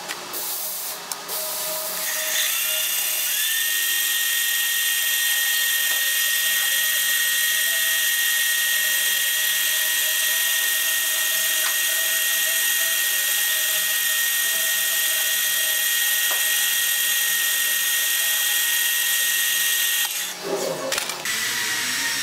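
A metal lathe machines the end of a small steam engine piston, a steady high-pitched cutting whine with a faint whirring motor underneath, starting after a short pause and stopping abruptly near the end.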